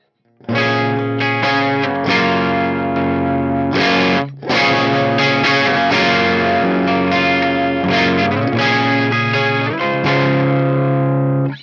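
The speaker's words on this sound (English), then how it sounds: "I am using this squash compressor that comes free, I believe, with GarageBand and Logic Pro" Electric guitar playing a clean tone with a little grit, squeezed through GarageBand's free squash compressor; steady, sustained chords ring continuously for about eleven seconds with a brief dip near the four-second mark, no voices.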